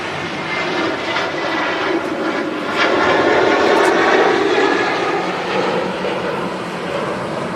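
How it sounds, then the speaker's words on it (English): A SunExpress jet airliner rolls down the runway for takeoff at Manchester Airport, its engines a broad, loud roar that swells and holds steady from a distance. "Here we go, Sun Express on the roll."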